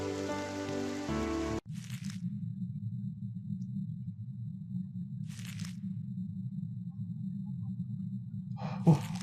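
Steady rain in The Witch's House MV, a continuous low hiss running for several seconds after a brief musical passage, with a few faint soft noises drifting in over the downpour.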